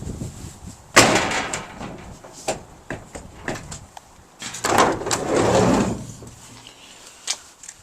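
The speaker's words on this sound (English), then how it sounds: "I'm going to open this door now and all the panels are going to fall off." A door on a Volkswagen T25 van under restoration is opened with a few clunks and a longer rattling scrape of loose panels, followed by lighter knocks, close up with no talk.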